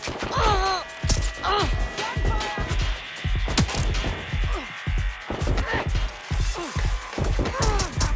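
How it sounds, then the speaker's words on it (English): Gunfire in Watch Dogs Legion comes as repeated sharp, punchy shots in an uneven rhythm, loud and close. Voices call out over the shooting. "Gunfire!"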